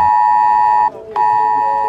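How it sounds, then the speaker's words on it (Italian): Italy's IT Alert public emergency alarm sounds a loud, steady electronic tone that cuts out for a moment and then resumes at the same pitch, with no voices. "Questo è un messaggio IT Alert, il sistema di allarme pubblico"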